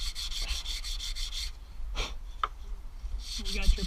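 Wood is sanded by hand with 80 grit sandpaper to take off hard edges: a quick run of rhythmic, scratchy back-and-forth strokes, then a pause and a few isolated rubs, close and moderately loud.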